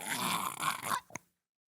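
A voice imitates a gurgled, gasping moan, a strained groaning sound that ends in a short throaty catch before silence.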